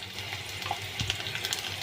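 Crushed garlic fries in hot oil in a pan for masoor dal, giving a soft continuous sizzle with faint crackles and a light stir.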